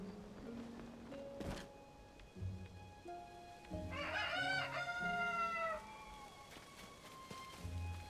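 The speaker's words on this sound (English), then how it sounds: "Crowing at midnight is a choice." A rooster crows in a Zelda video game, a single drawn-out cock-a-doodle-doo at moderate volume over a steady patter of rain-like ambience and soft game music tones.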